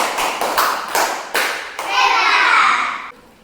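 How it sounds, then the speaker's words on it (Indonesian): Children in a classroom group activity clap a rhythmic praise chant for the green group, several bursts of loud, close claps followed by a sustained round of clapping that fades out. "tepuk hebat dulu buat kelompok hijau"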